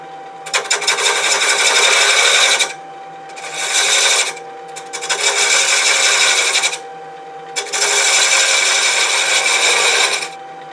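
Palo Santo wood on a lathe is cut by a tool in loud, rasping bursts of several seconds each, separated by short pauses where a low motor hum continues.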